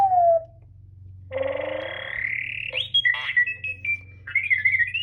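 A toy robot chirps and warbles in rising, falling electronic beeps and trills, a short burst followed by a string of quick whistling tones over a low hum.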